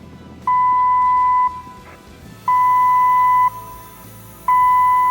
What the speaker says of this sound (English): Fire and gas alarm.